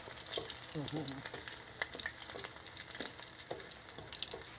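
Ground garlic paste fries in oil in a pan for mushroom soup, giving a steady, close sizzle with occasional stirring scrapes while a voice speaks briefly near the start.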